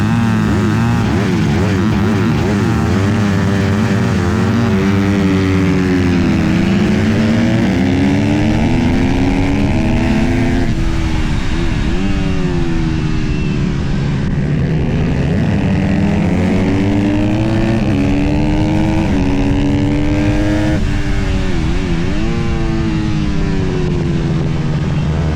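A Honda CRF150R dirt bike fitted with a slipper clutch races hard, its loud close engine rising and falling through repeated rev sweeps and gear changes, with no talk over it.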